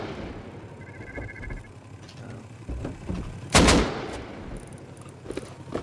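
Video game gunfire with explosive ammunition: scattered shots and blasts ring out, with one sharp, loud explosive crack standing out midway amid low rumbling background noise.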